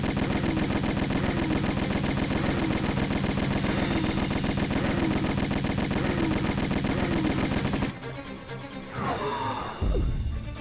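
Rapid, continuous pistol gunfire from Lara Croft during a boss fight in the Tomb Raider video game, a loud dense rattle of shots for about eight seconds before breaking off into scattered game effects.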